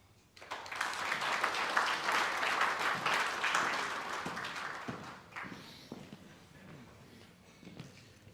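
An audience breaks into loud, sustained clapping after a business and economy presentation, swelling quickly and then tapering off into scattered claps.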